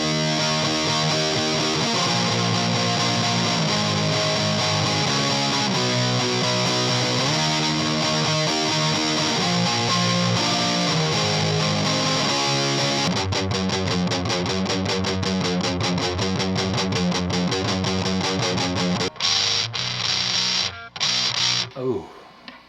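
Electric guitar through a BOSS MT-2 Metal Zone distortion pedal, heavily distorted, playing chugging riffs and sustained chords, loud and gritty, with a faster choppy section before cutting out in stutters near the end.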